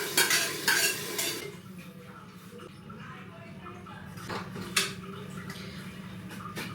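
A pot of rice being put on to cook in a home kitchen: metal clatter and scraping near the start, a low steady background hum, then another sharp clink of cookware, with faint talk underneath.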